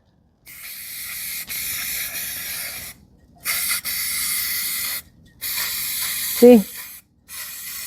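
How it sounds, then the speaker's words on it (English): Close hissing bursts of an aerosol spray can laying a coat of paint on a truck part, several spurts of a second or two with short pauses, and a brief spoken word in between. "every time I spray it the first time, it comes out terribly is because it's not shaking enough"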